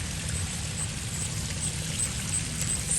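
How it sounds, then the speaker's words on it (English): A small creek running under a bridge toward a lake, a soft, steady trickle and wash of water, faint and continuous with no voices. "This little creek under the bridge and out to the lake."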